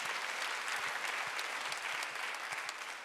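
A church congregation at a Sunday worship service claps steadily and continuously, a dense wash of applause with no pauses.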